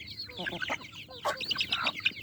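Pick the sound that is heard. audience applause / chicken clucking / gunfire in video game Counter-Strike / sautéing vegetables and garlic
chicken clucking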